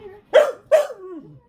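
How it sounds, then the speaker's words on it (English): Dylan, a puppy taken from a litter given away off the back of a pickup truck, gives two sharp, close barks in quick succession, then a softer trailing whine. "So, Dylan, the dog that I got off of the back of the pickup truck"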